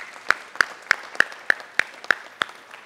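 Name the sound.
audience round of applause for the guests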